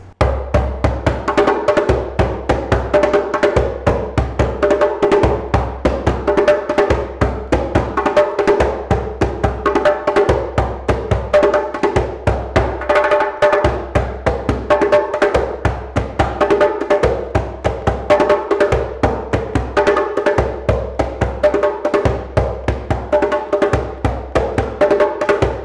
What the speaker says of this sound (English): So the rhythm that I'm going to be playing is a Trinidadian rhythm,